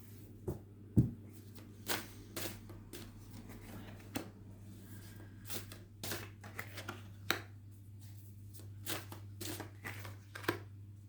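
Tarot cards shuffled at close range, a steady run of soft riffling flicks with a few sharper snaps, over a low constant hum.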